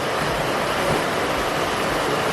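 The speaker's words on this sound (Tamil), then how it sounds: "வெளியே பயங்கரமாக மழை பெஞ்சிட்டு இருக்கு" Heavy rain pouring down outside a rural village home, a dense, constant hiss and roar that stays loud and even throughout with no voices.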